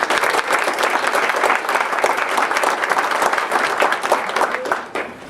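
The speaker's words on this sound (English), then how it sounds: "Can we give them a round of applause?" Audience at a freeholder's event giving a round of applause, loud continuous clapping from a large crowd that holds steady and tapers near the end.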